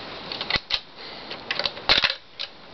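A 1970s K-Mart cassette tape recorder ejecting its tape: a short series of sharp plastic clicks and clunks, close and fairly loud, with a brief burst of mechanical rattle near the end.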